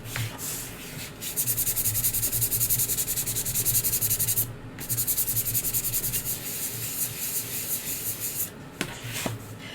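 Fondant is rubbed smooth over a sculpted teapot cake with steady, rhythmic rubbing strokes, close and continuous, with a brief pause midway and no talking.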